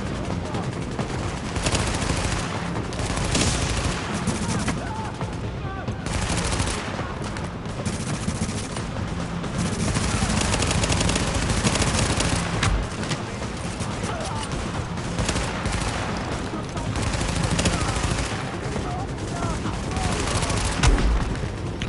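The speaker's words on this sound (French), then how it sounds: "On me tire dessus" Gunfire in the video game The Division, dense bursts of automatic weapon shots and rapid rattling fire sustained throughout, loud and close, with game ambience underneath.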